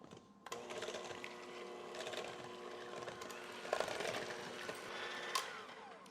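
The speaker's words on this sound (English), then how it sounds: "Get your beaters and mix this all up till it's smooth." Electric hand mixer beaters whirring steadily through a cream and batter mix for keto chocolate zucchini bread, a continuous close motor drone with slight pitch wobble and a couple of brief bumps against the bowl.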